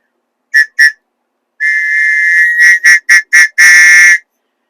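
A shrill whistle is blown close up: two short blasts, a long sustained one, then a rapid series of sharp bursts ending in a longer blast.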